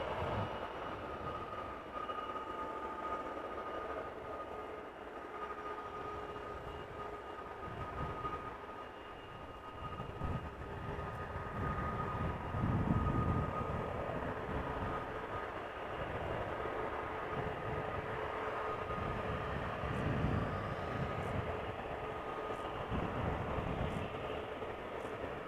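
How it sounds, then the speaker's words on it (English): Airplane engines spooling up at Amsterdam Schiphol Airport, the roar heard reflected off soundproofing walls along the runway, a distant, steady low rumble that swells gradually and holds, with a faint tonal whine. "airplane spool up sound is coming from the reflection of the soundproofing along the runway"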